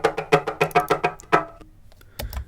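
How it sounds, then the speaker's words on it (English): Congas from a hip-hop beat made in Ableton tap out a quick run of about seven crisp, close hits in steady rhythm, then thin out into a few scattered strokes, with no speech. "And also I have congas that play throughout the track"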